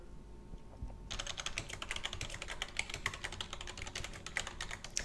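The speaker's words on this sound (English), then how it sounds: "I'll type in the master password." A master password is typed on a computer keyboard in a rapid, close run of key clicks. The clicks begin after about a second of quiet room tone and continue steadily to the end, with no talking.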